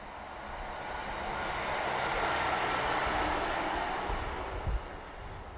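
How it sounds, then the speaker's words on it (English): A train on the Derby to Matlock railway line near Cromford passes nearby, a broad steady rumble and rush that swells and holds, then eases, with a brief low thump near the end. "A train for starters."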